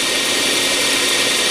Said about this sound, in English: I'm going to shape this little thumb receiver. I do that on this 2-inch wheel.